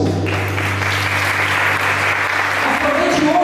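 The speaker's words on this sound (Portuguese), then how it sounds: "Uma salva de palmas desse povo." A church congregation applauds together in sustained, dense clapping that fills the room, with a low instrumental hum underneath and faint voices near the end.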